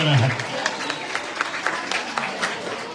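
Audience applause at a prize-giving ceremony for a fort-building and rangoli competition, a burst of crowd clapping heard under a voice on a loudspeaker.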